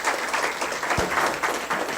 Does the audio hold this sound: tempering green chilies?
no